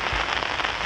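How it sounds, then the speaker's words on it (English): Heavy rain falling steadily on an outdoor golf course, a loud dense hiss of countless drops striking the ground, close and continuous for a brief stretch with no voices. "Having been raining all day quite heavily"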